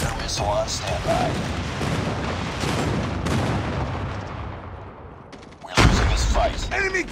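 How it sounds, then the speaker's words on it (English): Dense rumbling explosions and gunfire in a military shooter video game, sustained and loud throughout, with a heavy blast near the end and game voices calling out over the din. "Friendly airstrike incoming."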